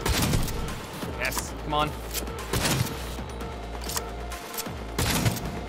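Gunshots in the Cyberpunk 2077 video game, with repeated sharp reports and heavy booms in an irregular rhythm. A player talks briefly over the shooting.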